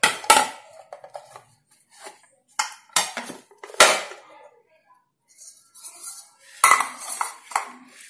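A no-egg chocolate lava cake made in a pressure cooker is turned out of its mold onto a plate, with scattered clinks and clatters of metal and dishware in short bursts separated by quiet pauses.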